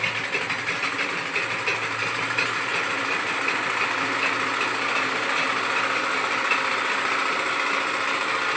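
A domestic sewing machine stitches fabric with black thread at home, running steadily and loudly with a fast, even mechanical whir and clatter throughout, no speech.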